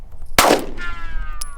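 A shotgun fires once, a single loud close blast followed by a ringing decay and then quiet background with faint movement.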